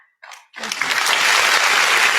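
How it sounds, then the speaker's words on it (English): An audience bursts into loud applause for Peter Obi after a brief pause, building quickly into a steady, dense clapping that fills the room. "A round of applause for His Excellency."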